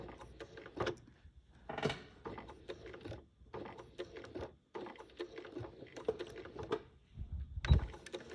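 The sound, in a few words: sewing machine stitching a quilt hanging sleeve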